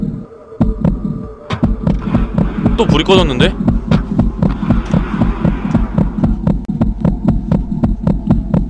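Steady thumping heartbeat from a mobile horror game, a regular double-beat pulse running loud throughout the whole stretch while a player speaks over it and other game noises flare briefly.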